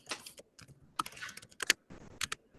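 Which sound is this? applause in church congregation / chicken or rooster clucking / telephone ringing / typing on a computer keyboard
typing on a computer keyboard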